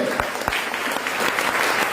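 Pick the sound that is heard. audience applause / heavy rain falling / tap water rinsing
audience applause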